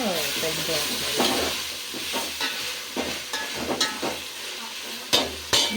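Curry leaves crackle and sizzle in hot oil for Telangana-style bagara rice while a spoon stirs them, with sharp pops and scraping strokes over a continuous frying hiss.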